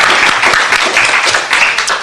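Applause from attendees at a city council committee meeting on arts, parks, health, aging and river matters, a dense burst of many hands clapping together, loud and steady throughout the short moment.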